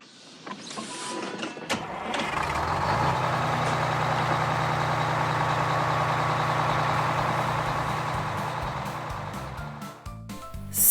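A blue bus engine starts up for departure and settles into a steady, close, continuous rumbling drone with a mechanical whir, lasting several seconds before tapering near the end.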